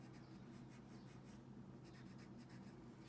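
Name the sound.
pencil coloring in a square on paper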